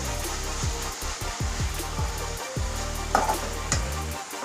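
Continuous sizzling and frying in a pan, with repeated scraping strokes of a spatula stirring chanchalaku greens into an onion tempering, fairly loud and close, no voices.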